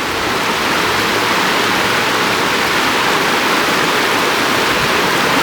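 River water rushes steadily through the Zion Narrows canyon, making a loud, dense, unbroken roar like a waterfall that does not change from start to finish.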